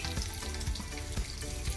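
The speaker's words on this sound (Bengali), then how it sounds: "এইগুলো আমি গরম তেলের মধ্যে দিয়ে দেবো।" Loud steady sizzling of vegetables frying in hot oil for navratan korma, with a few soft stirring thumps throughout.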